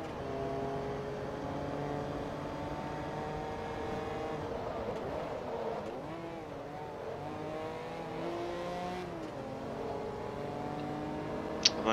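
Naturally aspirated car engine in the racing game Forza Motorsport 2, a steady revving drone rising and falling through gear changes, sustained and fairly even in level.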